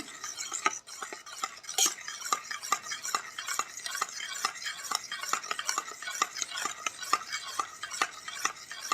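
A homemade skin-whitening soap mixture is stirred in a bowl to break up lumps, producing steady rhythmic scraping and clinking strokes close by with no talking.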